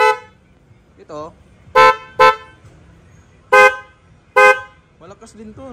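Loud car horn on a Mitsubishi Montero GT 4x4, sounding in four sharp blasts, the last two longer and spaced apart. Short bursts of talk come before and after the honks.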